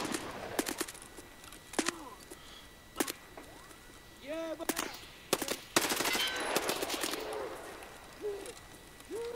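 Gunfire in the shooter game Escape from Tarkov: scattered bursts of sharp shots and short automatic volleys at middling distance, separated by pauses, with a voice speaking at points.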